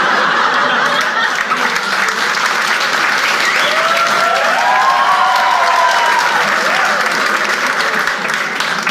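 Dense, steady applause from a comedy-club audience at a crowd-work stand-up show, filling the whole stretch at close range with faint laughter mixed into the clapping.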